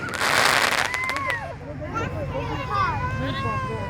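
An Echo in the Air canister firework shell bursts with a loud crackling blast at the start, followed by fading whistles and a babble of voices from a crowd nearby.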